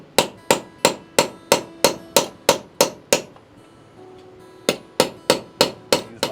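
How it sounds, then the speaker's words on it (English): Sharp metallic hammer blows on a cold chisel, close and loud, landing in a steady rhythm of about three per second, pausing briefly for about a second and a half, then resuming at the same pace. "I'll finish it off with just a couple blows with the hammer"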